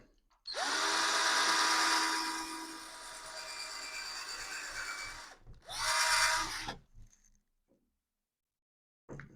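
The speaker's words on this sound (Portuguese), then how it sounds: "agora a gente vai fixar aqui a broca com escariador" A power drill fitted with a countersink bit bores into a ping-pong table, whining loudly for about five seconds, then dropping out before a second short burst, followed by near silence and a faint click.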